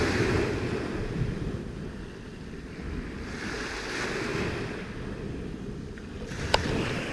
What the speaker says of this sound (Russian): Волнение не сильное, но такое приятное.